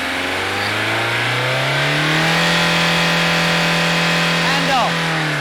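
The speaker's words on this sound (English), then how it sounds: "take the engine speed right up to maximum to prove that the governor is functioning" A diesel engine under MOT emission testing climbs steadily from idle toward maximum revs, then holds at a constant high speed as the governor cuts in, a loud continuous mechanical drone with a brief fluttering blip near the end.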